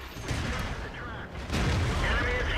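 World of Tanks T26E4 SuperPershing battle, with a tank firing high-explosive shells: a dense, continuous roar of booming gunfire and blasts that swells louder partway through, close and heavy.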